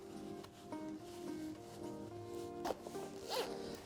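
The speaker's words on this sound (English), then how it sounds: "and then connect your zipper" A zipper is pulled around a pram frame to fasten the bassinet fabric, with several short rasping runs of the zip head and soft fabric rubbing, close and quiet, with no talk.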